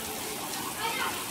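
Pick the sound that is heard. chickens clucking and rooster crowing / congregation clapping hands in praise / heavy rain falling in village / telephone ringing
heavy rain falling in village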